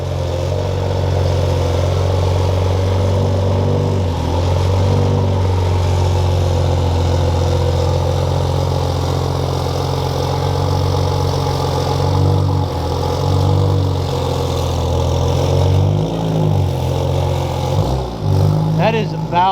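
A 2020 Toyota Supra fitted with a straight-pipe exhaust runs loud and steady close by, a deep droning engine note holding through with small swells of revving, and people talk over it.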